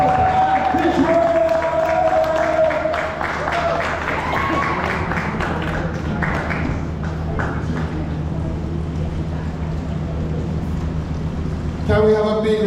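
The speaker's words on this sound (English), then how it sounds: "Please put your hands together and welcome my minister, the honorable Floyd Green, Minister of Agriculture and Fisheries." An audience claps to welcome the Minister of Agriculture and Fisheries at a World Water Day event, a sustained ragged round of applause that fades gradually, with a voice briefly over the end.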